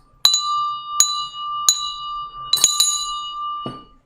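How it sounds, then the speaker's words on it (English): A small bell rings in a bright, clear tone, struck five or six times in uneven succession with short ringing decays, loud and close, marking the start of a trading session. "we need to first ring that bell."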